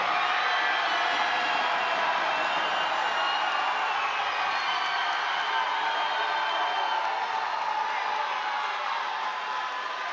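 Crowd at an MMA fight night applauding and cheering, a dense, continuous wash of clapping and shouts that holds steady, then eases slightly near the end.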